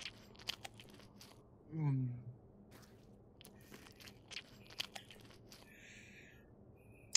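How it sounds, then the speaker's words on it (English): Wet chewing of food in the video game Ghosts of Tabor comes as one loud, squelchy bite burst followed by scattered faint clicks and crunches over low background noise. "I don't like the chewing sound. It sounds wet and disgusting."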